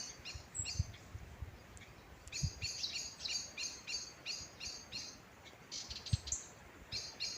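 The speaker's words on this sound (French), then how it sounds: "Écoutez le chant des oiseaux." Birds singing outdoors in a repeated chorus of bright chirps and short phrases, moderately near, over a low rumbling background with a few soft thumps.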